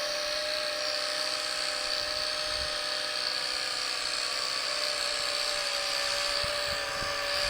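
A Potensic D58 camera drone, a sub-250 g GPS quadcopter, lifting off in auto takeoff with a steady, close high-pitched whine of its propellers and motors running throughout.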